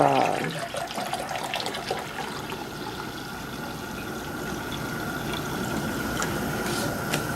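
Water runs steadily from a tap to make pickle brine, a continuous rushing stream after a brief louder start, fairly close and heard alone.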